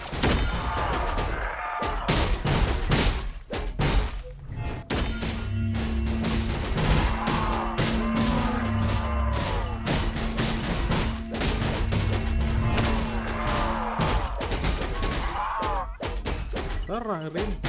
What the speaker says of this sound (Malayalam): ബോംബ് എറിയുന്നടാ നീ.